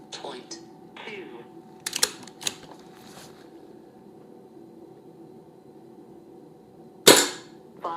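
Sharp air rifle reports from an SMK Victory CP2 .177 firing during a chronograph session: a small crack near the two-second mark and one loud, close shot later, heard over room hum with faint talk.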